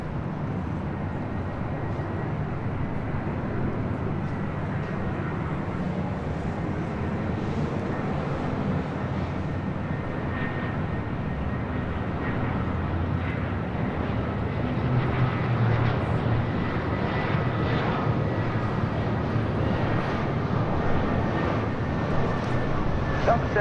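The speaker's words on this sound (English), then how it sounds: "It looks like a American A319 coming in from Vancouver" American Airlines A319 arriving at LAX from Vancouver, a steady distant jet rumble and whine building slowly, with voices talking over it.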